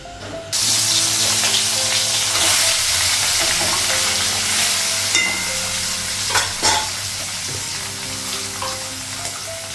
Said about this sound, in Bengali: কিছু মাছ ভাজা হয়ে গেছে